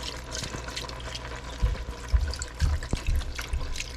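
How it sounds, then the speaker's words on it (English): Chicken broth pours from a small can into a pot of spicy cabbage soup, a steady liquid trickle with a few splashy glugs and light kitchen clatter, close by and without talk. "Go ahead and pour the rest of this chicken broth in there."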